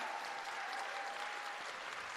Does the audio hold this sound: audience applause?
yes